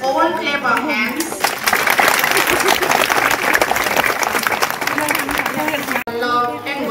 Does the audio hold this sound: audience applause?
yes